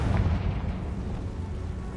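The Confringo blast spell in Hogwarts Legacy sets off a booming explosion that fades into a rumbling, dense decay lasting about two seconds, loud and heavy in the low end.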